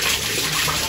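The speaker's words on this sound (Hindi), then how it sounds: "पानी भर रहे हैं इसके अंदर" Water pouring steadily into a container holding stones at a family visit to Alakhnath Mandir, a continuous close rushing and splashing with no pauses.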